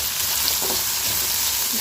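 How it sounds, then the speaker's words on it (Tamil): Raw banana stir-fry being mixed in a hot pan, a steady close sizzle with soft stirring scrapes running under it for the whole short stretch. "இப்போ இதையும் சேர்த்து நல்லா மிக்ஸ் பண்ணிக்கலாம்"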